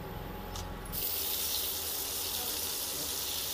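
Dried red chillies and whole garam masala drop into hot oil in a home kitchen, giving a steady, close, bright sizzle that swells after a brief quieter start and holds evenly throughout.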